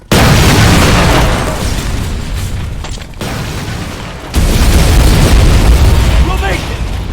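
A detonated charge explodes in the game Terminator Resistance, a loud sustained blast with a brief lull, then a renewed heavy rumble of debris and fire that continues to the end.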